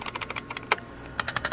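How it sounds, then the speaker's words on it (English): Typing on an IBM buckling spring keyboard: crisp, clicky keystrokes in quick irregular runs, a short pause, then another burst, close and fairly quiet with no talking. "it still sounds like buckling spring to me"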